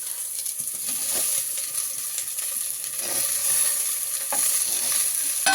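Onions sizzle steadily in a pan while being stirred, a constant bright frying hiss with soft scraping strokes of the utensil, close and without talk.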